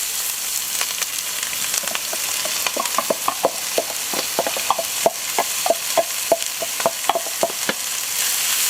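Onions fry in butter inside a Dutch oven with leftover bacon fat, a steady sizzle broken by repeated scraping stirs and clacks of a utensil against the pot, close and lively with no voices.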